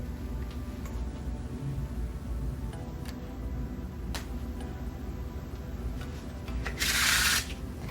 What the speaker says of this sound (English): number one on the very top of my list is the one-handed shuffle.